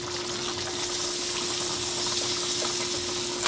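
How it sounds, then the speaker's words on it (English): Two sticks of butter melting in a pan give a steady, soft sizzle with a faint constant hum underneath, unbroken and close throughout. "I'm melting a total of 2 sticks of butter."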